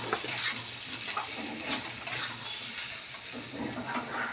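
Stirring a thin fish curry with potatoes, seasoned with turmeric and salt, in a pan: a constant close sizzle with scraping, clinking stirs, fairly loud, with no talking.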